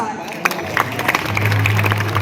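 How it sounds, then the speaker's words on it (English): An audience at a school farewell event applauds, a burst of scattered claps thickening into steady applause, heard indoors with a low hum running beneath it. "I request everyone to give a big round of applause."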